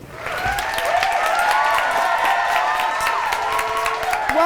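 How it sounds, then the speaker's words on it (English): Studio audience applause and cheering for a late-night talk show host, loud and sustained with whoops rising over the clapping. "let's please give a warm round of applause for our host"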